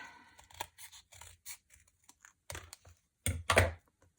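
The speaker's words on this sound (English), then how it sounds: "with your scissors, you're just going to come and you're going to cut your little ring" Short crisp snips and crunches of scissors cutting rings from a stiff cardboard paper towel roll, irregular bursts close up with quiet gaps between.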